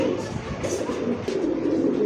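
Pigeons coo softly in a pen of fancy breeds, a low murmuring burble running throughout, fairly close, with faint background voices.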